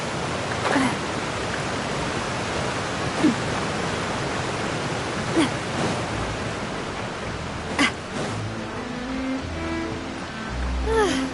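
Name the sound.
rain falling in the video game Genshin Impact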